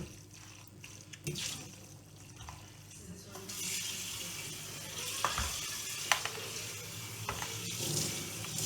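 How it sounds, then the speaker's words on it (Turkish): A homemade dog food mixture is stirred together by hand, giving soft wet squelching and scraping sounds with occasional sharper clinks over a steady low background hiss. "Şimdi iyice karıştıralım hepsini bir arada"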